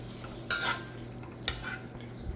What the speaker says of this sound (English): And we're going to stir it.